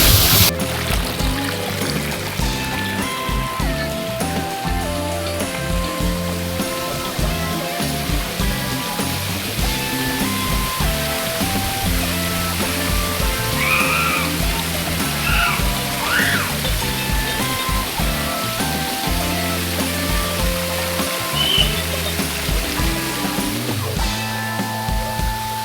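Pinnapuram waterfall in Nandyal, Andhra Pradesh, pours down in a constant, loud, close rush of falling water. It holds steady and unbroken for the whole stretch, with no voices over it.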